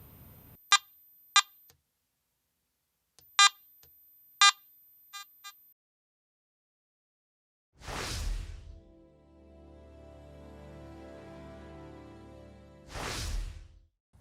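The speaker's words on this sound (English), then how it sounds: "The iron audio feature is recommended in the all metal mode to check targets for iron content." Garrett AT Max metal detector giving iron audio tones in all metal mode: sharp clustered beeps, then two low grunting warbles separated by a sustained tone, loud and alone with no talk.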